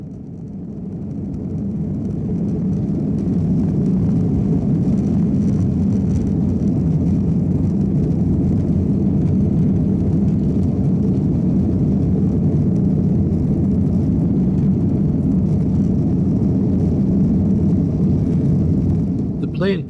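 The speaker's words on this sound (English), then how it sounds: "The plane took off in a southerly direction" Loud, steady low-pitched engine roar of a jet airplane taking off on a flight to Helsinki, building up at the start and holding for the whole stretch.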